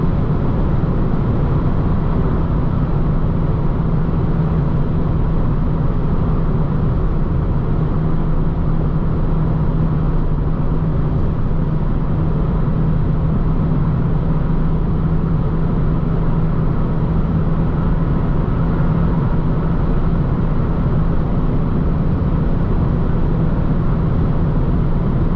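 Peugeot RCZ 1.6 16V at a 207 km/h top speed on a night autobahn, a constant loud roar of engine, tyres and wind with a steady droning tone throughout, no speech.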